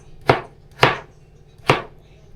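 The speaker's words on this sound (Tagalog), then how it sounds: "Bakit ako andito ngayon naghihiwa ng kamote?" A knife slices through sweet potato on a cutting board in three crisp, close chops, the first two quick together and the third after a short pause, with quiet between them.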